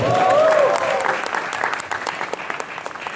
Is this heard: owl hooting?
no